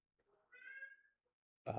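A cat gives a single soft, rising meow in a quiet room, followed by a short burst of human voice.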